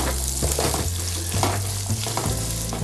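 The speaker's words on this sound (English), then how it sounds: "Then I'm going to add the onions." Onions go into hot oil with whole spices for a Kerala-style mutton fry, crackling in a loud, continuous sizzle close up, with repeated stirring scrapes over the frying.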